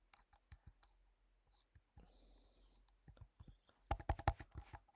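Quiet, close clicks of a computer keyboard as a command is typed, scattered taps at first, then a brief soft shuffling, and finally a quick burst of louder keystrokes.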